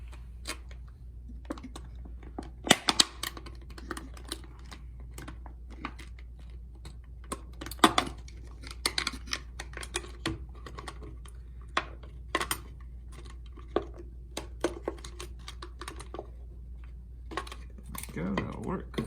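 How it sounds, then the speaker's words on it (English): Box cutter blade poking holes into an upcycled container for a bird feeder, a series of sharp irregular clicks and pokes, close and fairly quiet over a steady low hum. "I'm actually poking several holes here, so it's easier for me to cut with the"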